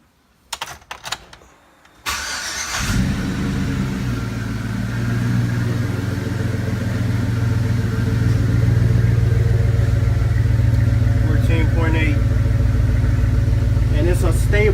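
After a few clicks and brief rustling, a large truck engine cranks and catches, then settles into a loud, steady idle that rumbles on to the end.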